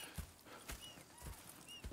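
Soft, muffled horse hoofbeats in Red Dead Redemption 2 clop at an uneven pace behind a faint ambient bed, with light high chirps scattered over them.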